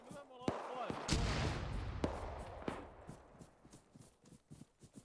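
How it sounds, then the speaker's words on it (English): Artillery booms in a D-Day Juno Beach battle video game: several heavy thuds and cracks over a dense rolling rumble, loud and close at first, then thinning into scattered distant pops. "That's artillery, boys."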